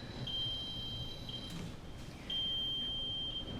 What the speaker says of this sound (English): lowers the head of the bed below that 30 degrees, you will hear an audible alarm.